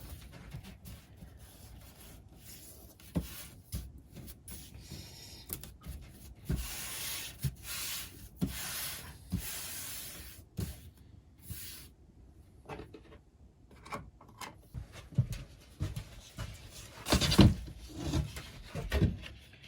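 A wooden board being slid and shuffled into place on an OO gauge model railway fiddle yard, producing soft scraping rubs and scattered light knocks, close by and fairly quiet, with a louder clunk toward the end.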